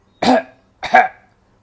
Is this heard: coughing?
yes